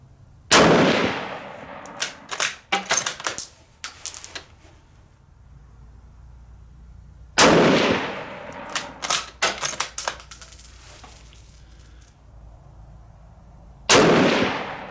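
Rifle shots fired at a 100-yard range with a K98k, No4 Mk II or M44 bolt-action: three sharp, loud reports about seven seconds apart, each followed by short rattling mechanical clicks of the bolt being worked.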